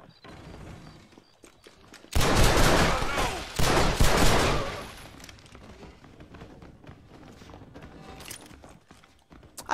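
Gunfire in Red Dead Redemption at Thieves' Landing: a loud burst of rapid shots and echoing reports lasts a couple of seconds, then fades into quieter game ambience with faint movement sounds.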